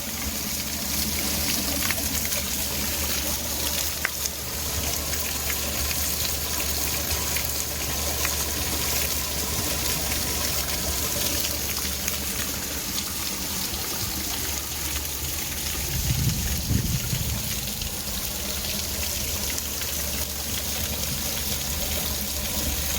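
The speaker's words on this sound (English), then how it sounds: "That is the sound it makes when the water is recycling" A splash pad's recycling water steadily trickling and draining, a continuous splashing rush with a brief gurgle partway through, fairly close and even in volume.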